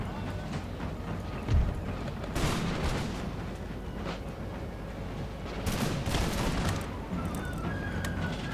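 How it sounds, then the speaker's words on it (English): Cannon volleys rumble across a battlefield in the strategy game Empire: Total War with the Darthmod mod, heavy booms and crackling fusillades rolling in waves at a moderate distance with no talk. "Cannons."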